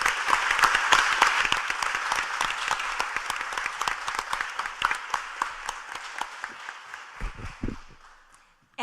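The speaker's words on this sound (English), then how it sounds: "please give them another round of applause for pulling this off" Applause from the audience at a city commission workshop, a dense burst of many hands clapping that starts loud and gradually thins into scattered claps, with a brief voice at the end.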